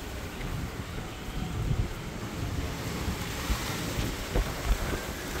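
Powerful storm wind blowing past an urban home window during a sudden rainstorm, a steady loud roar with heavy low buffeting gusts against the microphone and no voices.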